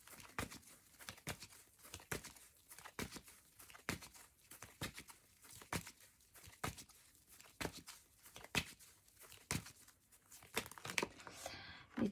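Tarot cards are drawn and laid out in a steady series of sharp, close shuffling and snapping card sounds, with soft rustling between them and faint indoor background.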